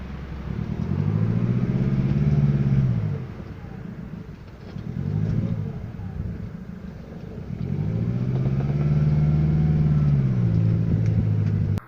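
A Jaguar X-Type diesel car drives along, its engine note swelling and falling through several gear pulls, moderately loud and close inside the cabin.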